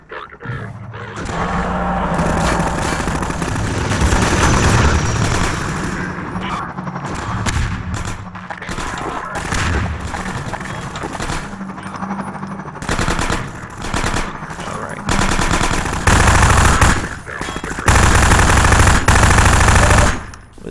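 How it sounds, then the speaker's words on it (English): Dense, loud bursts of submachine gun fire from Half-Life 2: Episode One, rattling in rapid strings with heavy thumps and explosion-like booms mixed in, almost continuous for the whole stretch. "Submachine gun isn't too accurate, so a little difficult to, shoot people from a distance."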